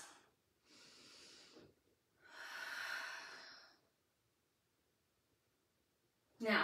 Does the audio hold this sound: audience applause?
no